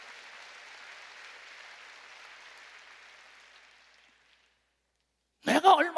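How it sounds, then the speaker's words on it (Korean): A church congregation claps in praise during a sermon, a soft steady patter of applause that thins and dies away into silence, followed by a brief loud burst near the end. "박수로 하나님께 영광을 돌려야죠"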